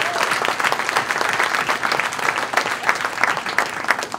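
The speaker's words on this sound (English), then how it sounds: "I think we just need to give Josh a round of applause for doing all this." A forum audience claps steadily for a local music supporter, dense, sustained applause filling the room throughout with no voices over it.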